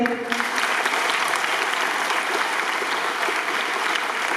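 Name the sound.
applause for winning schoolchildren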